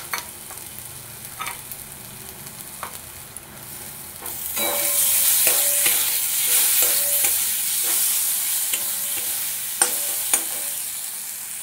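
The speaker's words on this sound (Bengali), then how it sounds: "এবারে এর মধ্যে দিয়ে দেবো আমি আদা রসুনের পেস্ট" Coarse ginger-garlic paste mixed with a little coriander leaf hits hot oil in a pan for fish curry. Light stirring taps give way to a sudden loud, steady sizzle with occasional scraping strokes.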